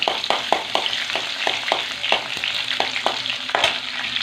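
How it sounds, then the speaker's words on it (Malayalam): Finely chopped garlic frying in a pan while being stirred, making a loud, steady sizzle punctuated by a rapid, fairly regular series of spoon taps and scrapes against the metal. "ഒരു മൂന്ന് വെളുത്തുള്ളി ചെറുതായിട്ട് അരിഞ്ഞെടുത്താണ് നമുക്ക് അതിലോട്ട് ഇട്ട് കൊടുക്കാം ഒന്ന് ഇളക്കി കൊടുക്കുക"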